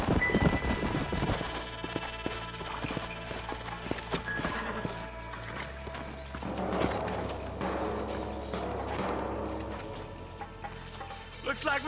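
Horses' hooves clip-clop with snorts and whinnies in the Red Dead Redemption video game, over a bed of rain and outdoor ambience, with voices talking at moments.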